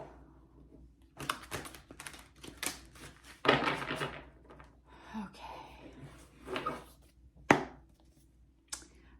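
Close, crisp bursts of tarot cards being shuffled, several quick riffles separated by short pauses.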